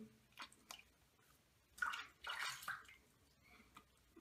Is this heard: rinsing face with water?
yes